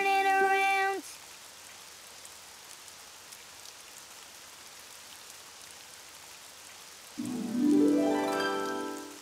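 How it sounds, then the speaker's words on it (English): Steady rain falls outside in a children's cartoon, a soft even hiss throughout, with short bright musical tones at the start and a rising musical flourish near the end. "Oh, it's raining outside."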